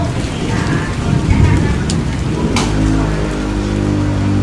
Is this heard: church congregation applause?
no